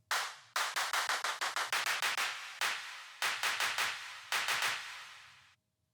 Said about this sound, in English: now let's use those claps I created in the last video